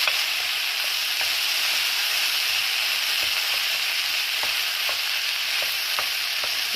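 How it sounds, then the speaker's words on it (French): Eggs and shrimp for fried rice sizzle loudly and continuously in a hot pan, with light scraping and tapping from stirring throughout. "Je vais remettre mes œufs et mes crevettes. Je vais bien mélanger tout ça."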